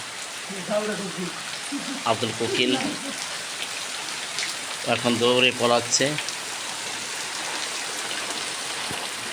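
Steady rain falls continuously in a village setting, a dense even hiss running throughout while people talk over it.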